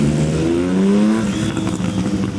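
Loud motorcycles pass close by with strong, rising engine revs; a roaring drone builds and then fades into a rougher rumble over about two seconds.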